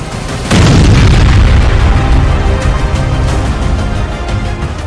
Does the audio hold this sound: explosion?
yes